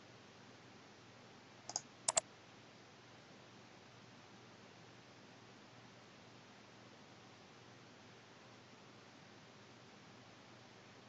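Two quick mouse clicks on a computer while sending a photo to a web portal, close and crisp against a steady low background hiss, followed by long near-silence.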